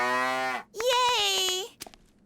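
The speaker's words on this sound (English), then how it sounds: "A robot cow." Robot cow toy letting out two drawn-out electronic moos, the first lower and the second rising and wavering, each ending sharply, followed by a few small clicks, close and clear.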